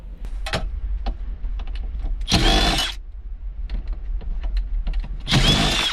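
A power drill removing Phillips screws from the radio of a 2006-2011 Hyundai Accent at a scrapyard, two loud close bursts of motor whine separated by quieter clicks and handling noise.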